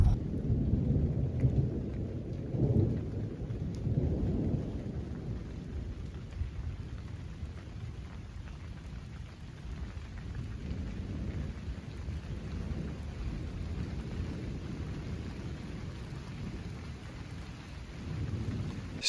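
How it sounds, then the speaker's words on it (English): Rolling thunder rumbles low and heavy through steady rain during a storm, with a couple of stronger crashes early on and a continuous wash of rainfall throughout, no voices present. "I love thunder."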